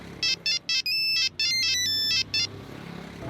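During an outgoing phone call, a handset sounds a loud electronic ringtone in rapid pulsing bursts and sustained tones that stop after about two and a half seconds, leaving a low background hum.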